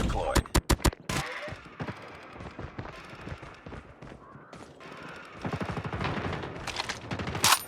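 Automated sentry gun in a Call of Duty military shooter fires rapid bursts of gunfire, loud and close, with sharp volleys at the start and toward the end and quieter shots and clatter in between.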